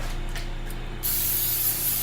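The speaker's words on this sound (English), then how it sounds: "spray your grill" Non-fat olive oil cooking spray hissing onto a grill in a single steady burst that starts abruptly and continues loud and close to the end.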